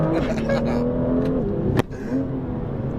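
A BMW M2 engine revs and pulls hard during drifting practice, its droning note climbing up close before a sharp burst, then continuing at a lower level.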